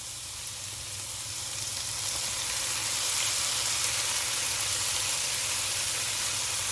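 Onions and garlic for a white chicken chili fry in a pan, a loud, even sizzling hiss that builds slightly and holds steady up close.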